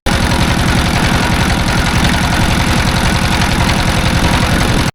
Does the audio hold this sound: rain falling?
no